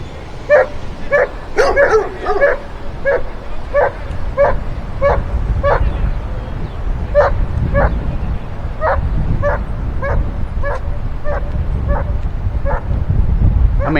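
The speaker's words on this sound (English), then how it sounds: "I hate dogs that bark constantly." A dog barks over and over in a steady, insistent rhythm near a riverside bike trail, the sharp yaps carrying above a constant low rumble of wind and road noise.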